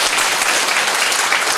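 A large audience at a political assembly claps loudly and densely, a continuous wash of applause that holds steady from start to finish.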